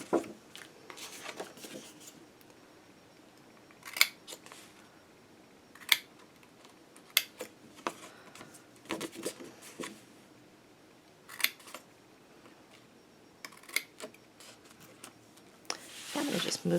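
Scissors cut paper card along score lines, giving scattered crisp snips and rustles in short bursts with quiet gaps between, close and fairly soft.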